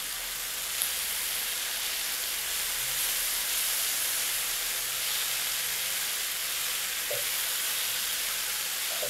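An onion-tomato masala for paneer butter masala fries with turmeric powder in a pan, giving a constant loud hiss of sizzling oil throughout, with only faint stirring knocks.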